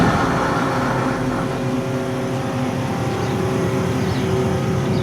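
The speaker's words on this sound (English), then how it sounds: "Who wants to hear a done up little flathead run?" A hopped-up flathead engine in a classic truck build, fitted with a 5-speed, idles steadily with a loud, continuous, even rumble throughout, close by and with no voices over it.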